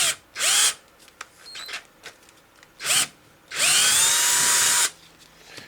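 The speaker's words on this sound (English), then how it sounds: "Going to drill out the small one" A power drill whirs in short bursts, then runs in one long sustained whine as it enlarges a pin hole for a rear axle extender, with quiet pauses between.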